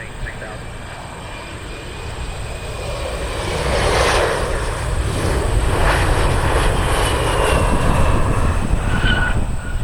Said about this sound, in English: Airplanes on approach right now.